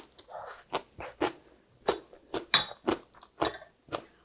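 Spicy stir-fried squid with vegetables is chewed close to the mic in steady, moist bites, about a dozen distinct chews in a regular rhythm with no talking.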